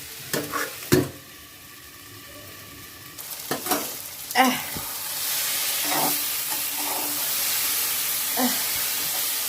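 Kochu loti, taro stolons, frying in a pan with a steady sizzling hiss, broken by intermittent stirring scrapes and clatters in the first half.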